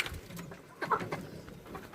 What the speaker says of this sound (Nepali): खाँदैन कि यो कुखुरा चाहिँ।